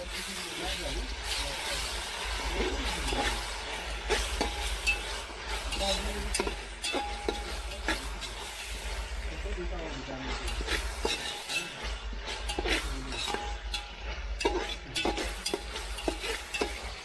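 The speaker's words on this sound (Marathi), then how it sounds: "आता आपण पाट्यावर जो मसाला तयार केलाय तो टाकूया. कांदा भाजतोय." Stone-ground masala and onion roast in a pan over a wood-fired stove, with scraping stirs, clinks and a steady sizzle running throughout, and a voice speaking over the cooking.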